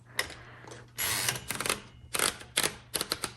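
Keys strike on a 1956 Royal Quiet Deluxe manual typewriter, a burst of loud, close mechanical clacks in uneven clusters with short pauses between them.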